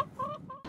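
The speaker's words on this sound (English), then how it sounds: "FFA's chicken coops have many benefits." Chickens in a high school FFA chicken coop give a few short, close clucks in quick succession, alone and at moderate volume.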